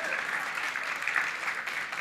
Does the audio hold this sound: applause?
yes